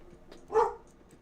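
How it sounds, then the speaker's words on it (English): A single short dog bark, muffled and somewhat distant, rises briefly above a quiet background. "Sorry, my dog's barking."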